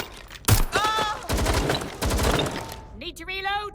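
Gunshots crack in quick bursts during a Watch Dogs Legion shootout, loud and close, with in-game voices calling out over the firing.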